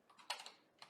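Computer keyboard typing, a few quick bursts of keystrokes with a pause between them, close and fairly quiet, no talking.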